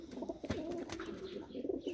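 Pigeons brooding on eggs coo softly in a loft, a steady low cooing repeating through the moment with faint background rustle and no talk.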